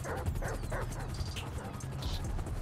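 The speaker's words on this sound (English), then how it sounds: "they got mad dogs" Dogs bark and yip in GTA 5 near a stash house, several short barks repeating over a steady low game rumble, with someone talking over them.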